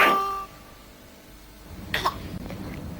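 A young child coughs in a 1990s cough medicine TV advert: a short burst of coughing at the start, then quiet, with a second brief cough or throat sound about two seconds in.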